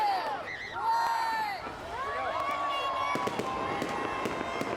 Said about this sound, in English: fireworks lit up the sky over downtown St. Louis